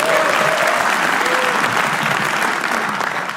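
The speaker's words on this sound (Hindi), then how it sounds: "सोलंकी के लिए तालियां बजा दो आप लोग।" A roast show crowd breaks into loud, sustained applause for a comedian, thick clapping with some crowd noise, fading a little toward the close.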